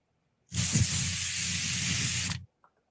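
A spray paint can releases a sharp, loud hiss lasting about two seconds, starting abruptly and cutting off cleanly, heard alone.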